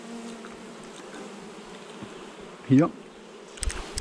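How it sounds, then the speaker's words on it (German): Honeybees hum softly around a comb frame during a swarm inspection of a beehive, a low steady buzz with one louder bee passing close by; someone speaks briefly. "Gibt man da mal ein paar Bienen drüber."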